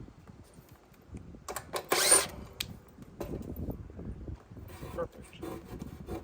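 A power driver whirs in short bursts as screws are backed out of a heat pump capacitor in an outdoor unit, with rubbing and scraping handling noises and speech in between.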